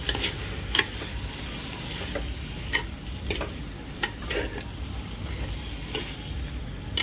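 Vegetables for veg biryani are stirred in a pot, with a quiet bed of sizzling broken by sharp spoon scrapes and clinks against the metal at irregular intervals, close and with no talking.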